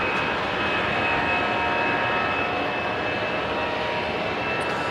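An easyJet Europe airliner departs from an airport, its engines producing a steady, fairly loud rumbling roar that stays even across the whole stretch.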